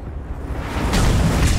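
A Confringo blasting spell fired in a Harry Potter video game, a dull booming burst with a rushing whoosh that swells from low rumble into a louder explosive blast and lingers through to the end.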